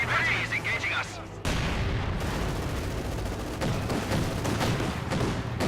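Mortar blasts and rifle fire from Company of Heroes 2 battle, a dense, continuous clatter of shots and booms with a heavy impact near the start, running under a commentator's voice.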